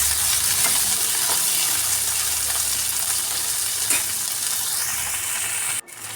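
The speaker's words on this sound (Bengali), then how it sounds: "তো টমেটো আর কাঁচা লঙ্কাটা দিয়ে পেঁয়াজের সঙ্গে আবারও খুব ভালো করে আমি ভেজে নেব।" Chopped tomato, green chillies and onion fry in a pan with a steady, close hiss of sizzling oil that runs unbroken until a brief knock near the end.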